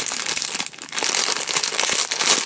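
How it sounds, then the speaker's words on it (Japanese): A plastic bag holding a One Piece figure won from a UFO catcher crane game is crinkled and pulled open by hand, a close, dense rustling and crackling that continues throughout. "これは袋開けましょう、せっかくだから。"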